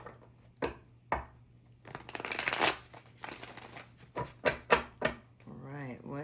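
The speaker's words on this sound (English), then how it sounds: "Let's go ahead and shuffle the cards for you." Tarot cards being shuffled up close, a run of sharp riffles and slaps with a longer flurry in the middle and a few distinct snaps near the end; a voice speaks briefly at the close.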